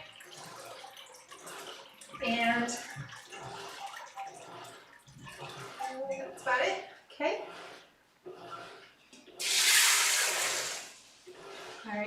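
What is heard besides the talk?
water poured into pot for split pea soup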